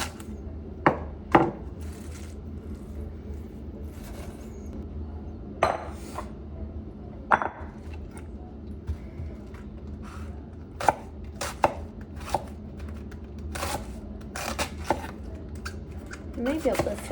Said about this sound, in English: And cabbage is like really easy to cut.